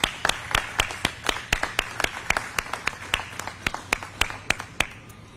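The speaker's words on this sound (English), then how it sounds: "Please join me in a round of applause for them." Applause at a news conference announcing a transportation grant, honoring StarTran staff and committee members: sparse, evenly spaced claps, about two a second, sharp and fairly close, with a thin murmur behind them.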